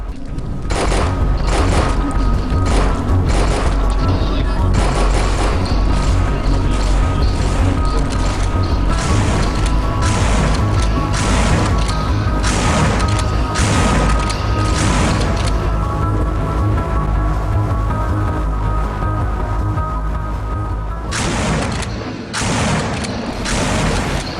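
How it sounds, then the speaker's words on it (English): Gunfire at a zombie horde in the video game No More Room in Hell: a loud, dense, nearly unbroken barrage of shots and booming impacts that fills the whole stretch, with only a brief dip near the end. "we opened fire on the horde, trying to clear a path to the radio"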